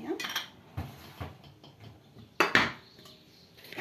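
A cocotte cooking pot being handled in a home kitchen, a few close metallic clanks and knocks, one sharper clatter near the middle, with quiet background noise.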